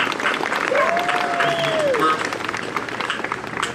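An outdoor park crowd applauds a big band, a continuous wash of clapping with a whistle rising through it and a voice briefly audible underneath.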